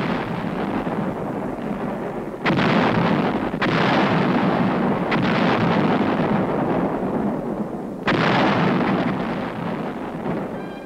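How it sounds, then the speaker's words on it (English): 155 mm artillery guns firing during the Korean War near Uijeongbu, heard as a heavy continuous rumble broken by several sharp, loud blasts spaced a few seconds apart. "Our 155's blast evacuated Uijeonbu."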